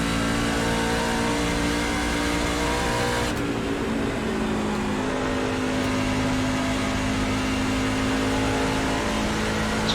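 A NASCAR Class C stock car engine in iRacing at Dover International Speedway drones loud and steady, its pitch dipping briefly off throttle before climbing back through a corner.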